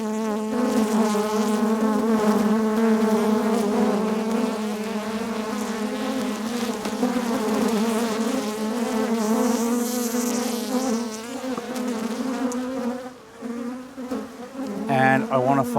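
Honeybees in an open hive after the queen excluder comes off, a loud, close, continuous buzzing drone with wavering pitch that dips briefly near the end.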